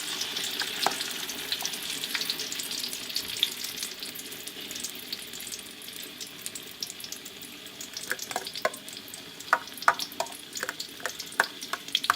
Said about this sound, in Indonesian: Pertama kita masukkan terongnya di minyak goreng sudah panas secukupnya. Lalu kemudian kita guyur dengan telur seperti ini.